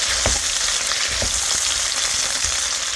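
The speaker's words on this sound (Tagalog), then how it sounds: "Stir fry tayo ng papaya" Chicken and papaya stir-fry in a hot pan with a steady loud sizzle, broken by repeated scraping stirs of a utensil at close range.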